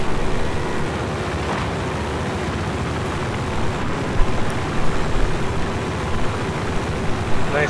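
Helicopter in the Battlefield 4 video game during an online Shanghai match, a steady loud rotor and engine roar running throughout, layered with dense battlefield noise and a few sharper bursts midway.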